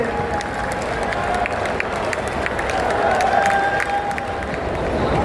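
Sustained audience applause at an international Arya Samaj conference in Delhi, a steady dense wash of many hands clapping from a large crowd, with no pauses.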